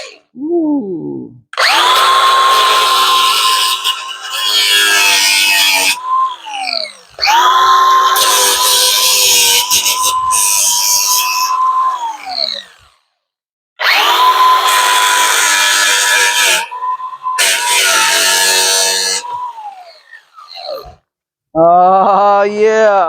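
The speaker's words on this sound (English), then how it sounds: "Time to grind off all of the nails." A DeWalt power tool grinding nail heads off rotten trailer siding, running in three long loud bursts of a few seconds each with short pauses between, high whining harmonics and gritty metal-on-metal rasp, ending with a brief rising whine.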